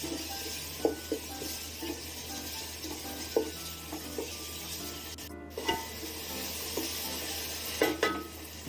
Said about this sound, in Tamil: நாலு பச்சை மிளகாய், புதினா, கொத்தமல்லியும் சேர்த்துக்கலாம். சேர்த்து நல்லா வதக்கி விட்டுக்கலாம்.